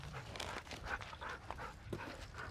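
A dog pants rapidly and lets out soft whimpers and whines, a steady breathy rhythm with a few higher cries, close and fairly quiet, with no talking.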